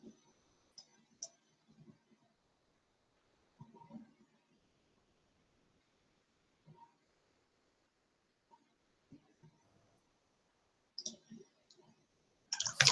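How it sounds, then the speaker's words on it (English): Sparse, faint clicks of typing on a computer keyboard heard remotely over a video call, scattered soft taps separated by long silences, with a brief louder flurry near the end. "I can hear her typing, though."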